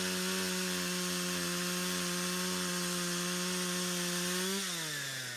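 A chainsaw from the 1974 film The Texas Chainsaw Massacre drones loudly and steadily at a high pitch. Near the end the pitch sags, then recovers.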